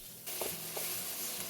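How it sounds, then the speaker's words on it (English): Vegetables stir-frying in a pan give a steady close sizzle, with a couple of soft scraping stirs rising above the hiss. "As we're stirring, the vegetables are releasing moisture"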